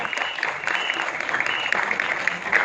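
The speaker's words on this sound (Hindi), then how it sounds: "तालियां चाहिए।" Audience applause at the trailer launch of the film Adipurush: dense, sustained clapping from a large crowd, steady and loud for the whole stretch with no one speaking.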